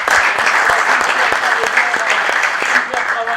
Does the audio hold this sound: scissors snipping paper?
no